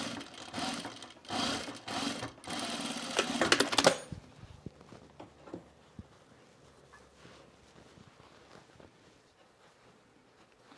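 A sewing machine stitches a seam on a cropped plaid jacket in quick rattling bursts for about four seconds, then stops, leaving faint handling clicks and quiet room noise.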